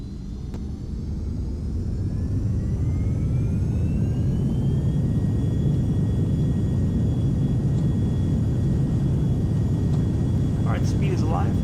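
Twin jet engines of a Carenado 390 Premier 1A in X-Plane 11 spool up for takeoff, a rising whine that settles into a steady, loud roar over heavy low rumble.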